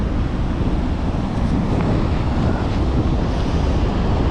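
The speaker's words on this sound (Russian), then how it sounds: "И вот такое море бушующее. Ветер, конечно, просто руки мои отмораживает." A stormy sea surges and crashes onto a pebble beach under a constant, buffeting wind. The roar is loud and unbroken, with no voices.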